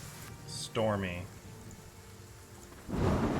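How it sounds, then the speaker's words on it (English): Stormy rain along a coast in a tabletop fantasy adventure, steady rainfall with a rumbling burst, coming in around a voice and swelling loud again at the end. "the rain picks up. It kind of turns a little stormy."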